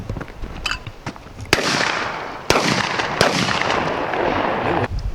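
Several loud, close 12-gauge shotgun blasts from Browning and other waterfowl guns, three sharp reports with ringing echoes outdoors, each decaying over about a second.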